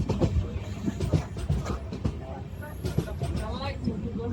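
An LHB-coach Simhadri Express, hauled by a WAG-9 HC locomotive between Guntur and Visakhapatnam, rumbles along with a steady rolling clatter while someone talks over it.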